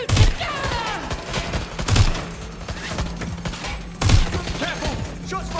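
Video game gunfire, a police-style shootout, bursts of rapid shots at roughly 0.2, 2 and 4 seconds over a steady bed of game ambience and effects, loud and close.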